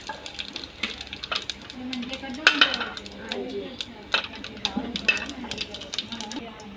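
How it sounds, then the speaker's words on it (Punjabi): Cumin seeds tossed into hot oil in a pan while making Rajasthani sev bhaji, a soft crackling sizzle under clinks and scrapes of utensils against the pan, close and fairly quiet, with bits of voice in the background. "ਸਭ ਤੋਂ ਪਹਿਲਾਂ ਪਾਵਾਂਗੇ ਜੀਰਾ"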